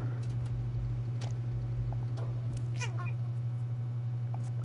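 Cat meowing in the video game Stray, several short meows over a constant low hum, near and fairly clear.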